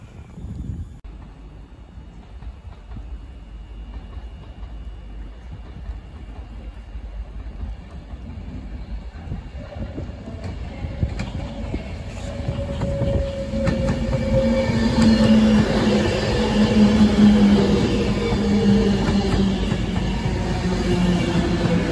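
A Class 730 electric train on a test run moves through Crewe station. It begins as a quiet distant hum, then builds into a loud, close rumble with wheel squeals and clattering as it passes.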